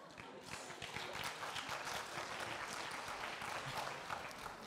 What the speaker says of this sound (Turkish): Alkışlar onay anlamına geliyor